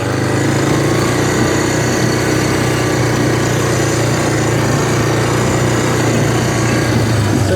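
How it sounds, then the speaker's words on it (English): A tractor engine drones loudly and steadily while hauling a trailer that bounces behind it, with a rattling racket mixed into the continuous roar and no talk. "That trailer in the back makes a racket."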